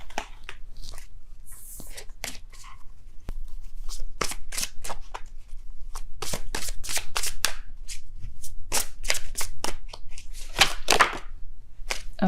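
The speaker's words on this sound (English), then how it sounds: "I will be pulling 3 cards from the Psychic Tarot deck" A Psychic Tarot deck shuffled by hand for a reading: a long run of crisp, close riffling card flicks and slaps in quick irregular bursts, with no talking.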